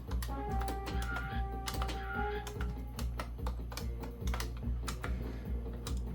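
Computer keyboard keys clatter in quick irregular bursts of taps, close and clear, while someone plays a PC game on a Dell Dimension XPS T550, with game sound in the background.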